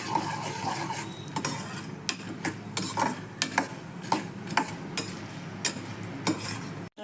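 Peanuts and roasted gram are stirred in a hot pan, a spoon scraping and clinking against the metal in irregular sharp strokes over a soft sizzling, rattling bed.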